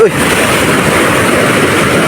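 Big waves pound the shore during a typhoon with strong southwest monsoon winds, a loud, continuous roaring wash mixed with wind buffeting the microphone.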